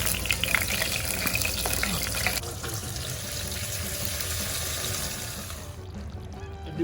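Hot tempering of fried shallots, dried red chillies and curry leaves poured into a Kerala vaala fish curry makes a loud rushing sizzle. It settles into a softer hiss and then fades near the end.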